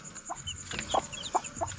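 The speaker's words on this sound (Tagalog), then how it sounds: "Ayan sila mga tropa, oh. Yan yung mga sisiw natin." Several newly hatched chicks peep in short, high chirps, scattered and fairly close over a steady faint background hum.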